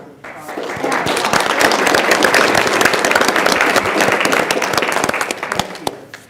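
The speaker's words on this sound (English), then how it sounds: "I just want to get you guys a round of applause." Audience at a community meeting applauding, dense continuous clapping that swells up quickly, holds steady for several seconds and then tapers off.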